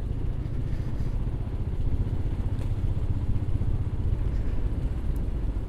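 A motorcycle rolls over cobblestones, a steady low engine rumble with a fine rapid clatter and slight vibration, close and continuous with no voices.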